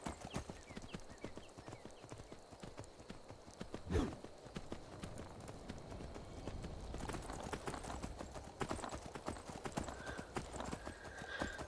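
Shadowmere, a horse in the Skyrim video game, gallops with rapid rhythmic hoofbeats that continue steadily at moderate volume, along with a brief snort or whinny partway through.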